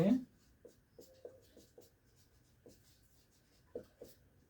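Pen on paper while an exam answer is written out, with short scratchy strokes in irregular bursts, close and quiet, under someone speaking softly.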